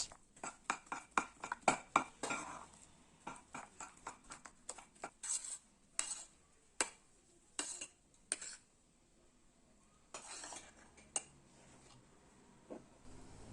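Frozen homemade strawberry ice cream mixture being beaten in a container, a run of sharp clinking and scraping strikes, rapid at first and then sparser with pauses between bursts, close and clear.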